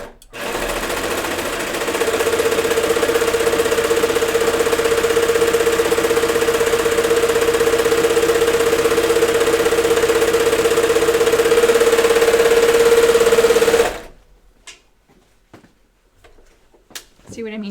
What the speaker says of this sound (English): I think I'm gonna just overlock this edge real quick.